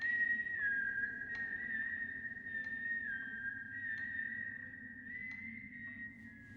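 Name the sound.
someone whistling the folk song This Old Man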